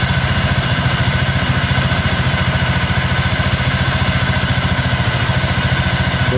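A motorcycle engine runs steadily at close range, its fast, even putter holding a continuous idle rhythm throughout with no one speaking.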